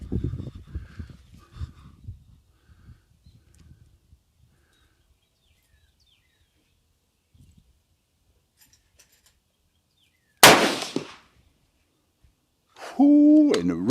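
A single sharp rifle shot from a UPR15 chambered in 224 Valkyrie, loaded with 4895 powder, cracks loudly outdoors at a range and decays within about a second, after quiet shuffling, followed by a brief voice.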